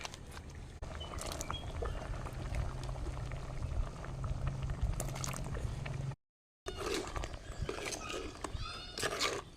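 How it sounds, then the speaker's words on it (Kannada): A pot of masala curry with mackerel bubbles steadily at a rolling boil, with a constant close gurgle and a brief gap partway through, and someone speaks over it. "ನೋಡಿ ಇವಾಗಿಲ್ಲಿ ಮಸಾಲ ಚೆನ್ನಾಗಿ ಕುದೀತಾ ಇದೆ"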